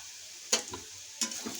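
A spoon stirs onion, tomato, turmeric and chili powder in a frying pan, giving two short scraping stirs over a soft, steady sizzle, close and fairly quiet with no talking.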